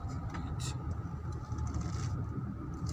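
A car drives along a smooth asphalt road, its engine a steady low rumble with road noise heard from inside. A voice talks over it.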